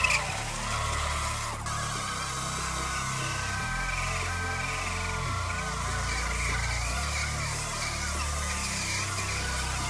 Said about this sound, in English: And after all, we can do a burnout on a board.